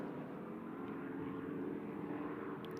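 A front-engined GT race car with Mercedes' big 6.3 litre V8 roars past during a four-hour endurance race at MotorLand Aragon, a loud, steady, deep drone held for about three seconds with no voices.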